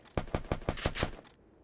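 Gunshots fired from behind, a rapid burst of about seven sharp reports in quick, even succession, fairly distant and moderately loud, ending abruptly with no talking.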